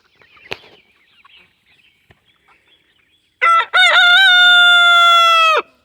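A rooster on a small farm crows loudly and close by, a couple of short opening calls rolling into one long, drawn-out crow after a few faint rustles and clicks.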